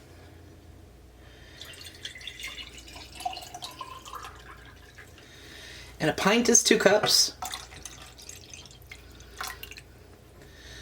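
Water poured into 16 ounces of tomato sauce for canned beans and franks, a short burst of splashing pour in the middle, surrounded by faint drips and a person talking.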